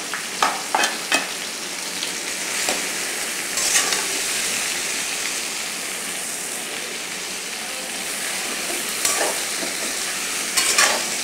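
Okra stir-fried in a pan with dried red chillies gives a steady close sizzle, broken by scattered scrapes and clicks of a spatula, with no one talking.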